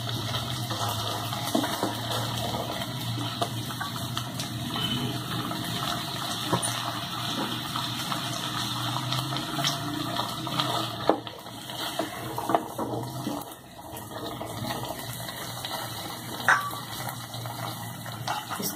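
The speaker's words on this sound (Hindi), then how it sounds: "इसमें थोड़ा सा पानी डालकर" Water poured into a pan of black chickpeas being cooked for chaat, a steady continuous splashing and filling sound running throughout at moderate loudness, with no talking.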